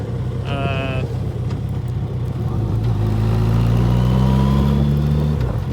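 A Yamaha FJR1300 motorcycle with a modified Trooper exhaust being ridden solo, its engine droning loud and steady as the pitch climbs through acceleration, with wind rush throughout.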